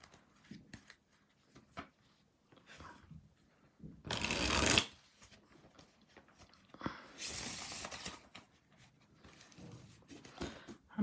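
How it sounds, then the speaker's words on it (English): Tarot cards are shuffled close up in quiet, intermittent bursts of riffling and soft slapping, with one louder rush of card noise in the middle. "as you are seeing, I am shuffling."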